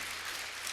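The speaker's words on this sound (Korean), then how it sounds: "자 우리 박수 먼저 합시다" Brief, soft applause from a church congregation during a Sunday service, a short steady patter of clapping heard from a little distance.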